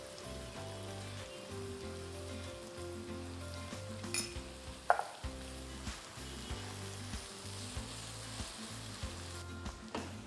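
Chopped onions sautéing with salt in a pan for brinjal gothsu, a quiet hissing sizzle that patters like rain under a low repeating background hum, with one sharp clatter midway and a few soft stirring taps.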